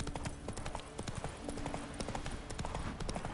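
The horse Roach clip-clops along in The Witcher 3, hooves striking in a quick, steady rhythm, close and clear over a faint ambient bed.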